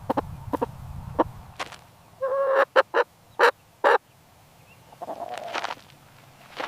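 A chicken clucking in a run of short, sharp calls, with a few isolated clucks at first, then a quick cluster of loud bursts, then a drawn-out squawk near the end, close and clear with no talking.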